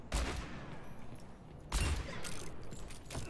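Gunfire in Overwatch aimed at practice bots: two bursts of rapid shots about a second and a half apart, loud and close, with no voices.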